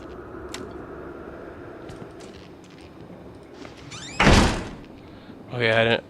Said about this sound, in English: I didn't necessarily want to just fucking slam the door like a goddamn barbarian